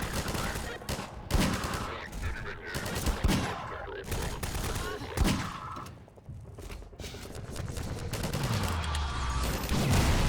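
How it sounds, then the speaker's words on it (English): Rapid bursts of gunfire and grenade explosions in the shooter game Half-Life 2, dense clattering volleys with heavy blasts, loud and close, followed by a lower rumbling stretch. "A lot of grenades."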